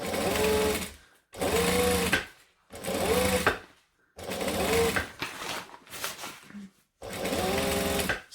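Sewing machine basting a zipper in place along a bag's edge, stitching in several short bursts of rapid whirring, each lasting about a second, with brief pauses between runs.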